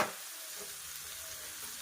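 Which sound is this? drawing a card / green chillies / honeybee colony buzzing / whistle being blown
green chillies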